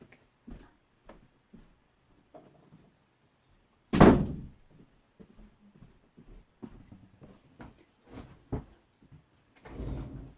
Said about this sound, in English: I just have to close my door.